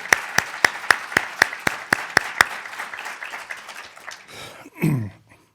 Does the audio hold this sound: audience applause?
yes